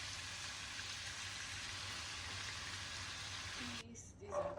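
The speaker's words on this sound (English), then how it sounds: "now we'll flip everything and make sure the shrimp is properly" Shrimp and fried rice frying in a pan, a steady dense sizzle held close for several seconds before it cuts away to quieter sounds.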